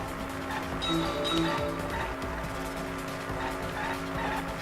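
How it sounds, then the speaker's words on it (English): Video-game cars race along a narrow road in Danganronpa V3, engines droning with repeated tire squeals and skids over busy game music and effects, continuous and moderately loud. "Oh, now we got cars."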